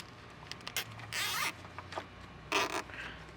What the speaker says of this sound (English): We're going to zip tie our cable by using the provided zip ties.